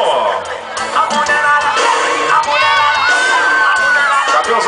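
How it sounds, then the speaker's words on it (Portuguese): A lively audience at a 2011 amateur talent show cheers, whoops and shouts loudly and continuously, a dense wall of excited voices. "Cadê os aplausos para Emerson?"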